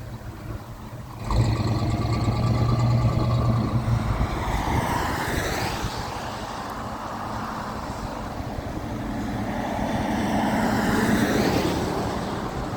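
A rig's engine as it tows an Avion camper, a deep drone that swells and passes by, with a broad rumbling rise and fade over several seconds at moderate distance.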